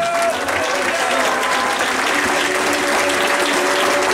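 A church congregation gives a burst of steady, loud applause, with many hands clapping together close by and voices audible beneath it.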